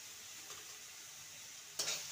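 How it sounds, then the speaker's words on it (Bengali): Potatoes being stirred in a frying pan for aloo paratha filling, with turmeric and salt added: a quiet steady sizzle with a soft scrape near the start and a louder stirring scrape toward the end. "আলুটাকে নেড়ে নেব।"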